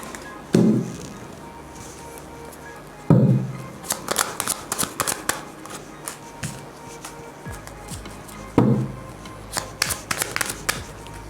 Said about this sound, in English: I'm going to take a tarot card as a clarification as well.